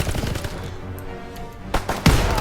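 Shotgun fire in the World War II shooter Call of Duty: WWII, heard as a couple of loud, sharp blasts near the end amid game ambience.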